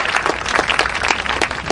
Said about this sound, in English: please hold your applause until the